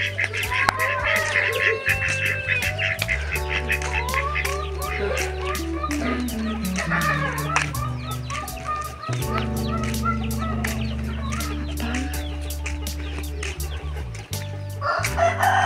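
Chickens cluck and a rooster crows around a rural village backyard where ducks are also kept, with layered crowing and clucking close by and a low steady hum underneath throughout.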